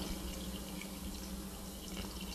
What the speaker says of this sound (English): I'm going to pour in our vegetable broth here.